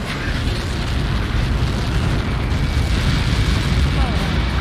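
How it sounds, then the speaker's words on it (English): Missile explosions in the combat flight game Ace Combat 7, a dense sustained roar of booming blasts filling the whole stretch, loud and continuous with rumbling low end. "How many got caught in that explosion?"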